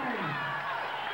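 At a Dale "Apollo" Cook boxing bout in round 9, a large arena crowd roars and cheers in a steady, dense wash of noise that holds loud throughout, with no clear single voice on top.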